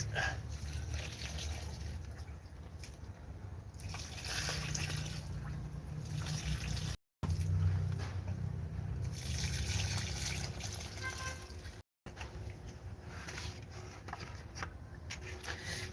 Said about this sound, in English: bucket did have some water in it, so I just use it to water the callaloo